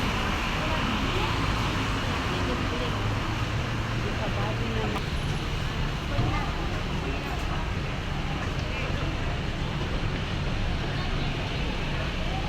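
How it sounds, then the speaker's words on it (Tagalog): Steady, dense roar of busy street traffic mixed with crowd murmur in Singapore during Deepavali, a constant wash of engines and voices with no breaks. "Matraffic din, marami kasing tao."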